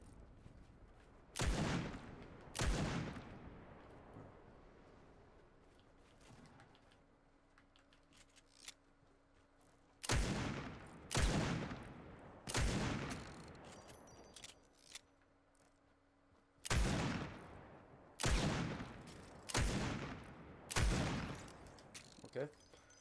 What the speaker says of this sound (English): Don't know why he's shooting at me.